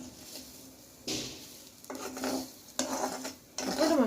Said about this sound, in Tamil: நம்ம உலர வச்ச அரிசியை கடாயில் போட்டு கொஞ்சம் லைட்டாக ஃப்ரை பண்ணி எடுத்துக்கலாம்.